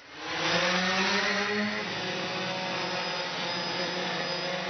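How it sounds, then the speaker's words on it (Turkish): A remote-controlled toy helicopter runs steadily, its close, loud motor whine and rotor buzz holding a constant pitch with a slight shift partway through, alone without talk. "Şimdi helikopteri göndereceğiz."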